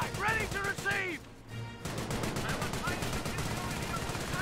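A Vickers machine gun emplacement in Company of Heroes fires rapid sustained bursts amid other battle gunfire, loud and continuous, with a brief lull, under overlapping in-game voice chatter.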